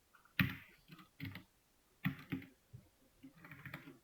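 Single keypresses on a computer keyboard, including the Insert key beside Home, clicking in short bursts: a clear cluster near the start, another around two seconds, then lighter taps toward the end, close and crisp with no talk.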